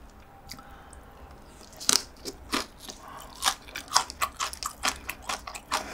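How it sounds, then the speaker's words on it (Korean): Crunchy green onion kimchi (pa-kimchi) chewed close to the mic during a Korean mukbang, a series of crisp, wet bites and crunches in an uneven rhythm, with no talking. "맛있어. 뭐 음, 이것도 아삭거리네"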